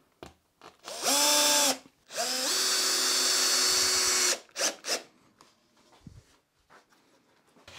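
Power drill driving screws to fix a second strip onto a workbench: two loud whirring bursts with a pitch that shifts as each screw seats, then scattered knocks and handling noises.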